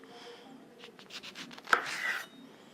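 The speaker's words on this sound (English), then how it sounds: "we're just gonna cut the orange in half and then squeeze all of that juice in" An orange is cut in half with a knife, giving a few soft, close slicing strokes and a sharp tap on the board, followed by a short squishing squeeze, all quiet and without talk.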